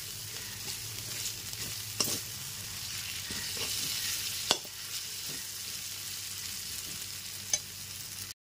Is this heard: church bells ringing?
no